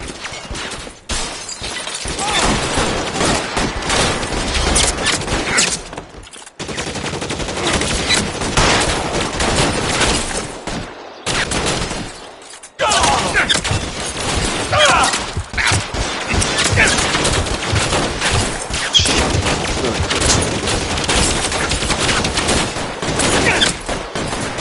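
A chaotic LA Noire shootout: dense, repeated gunshots and bursts of fire with shattering glass and crashes, interrupted by a few brief pauses, while voices speak over the din.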